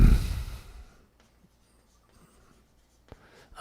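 A pen or marker scratches briefly across paper while a diagram is drawn by hand, starting with a loud close burst of strokes, then faint sparse scratches and a short stroke near the end.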